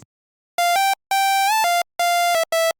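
Bright buzzy tri-saw synthesizer lead for UK hardcore playing a short phrase of sustained notes with gaps, one note bending upward, loud and clean with no other sounds.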